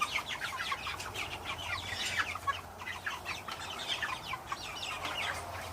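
Cornish cross meat chickens in a coop give steady overlapping clucks and soft chatter, several birds close by, continuous and busy throughout with no voices.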